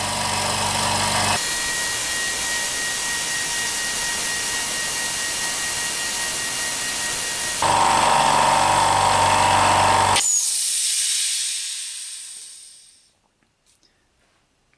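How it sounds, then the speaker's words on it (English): A Hyundai 50L air compressor runs with a loud, harsh, piercing mechanical roar, shifts to a sharper tone partway through, then cuts off and fades to silence. "super sharp compressor noise that just pierces your ears"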